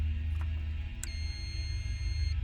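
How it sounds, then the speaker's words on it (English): A short electronic beep, then a brighter beep tone with a sustained high ring, over a steady low mechanical hum, as a hotel room keycard reader denies entry. "The telltale beep of a room keycard being denied."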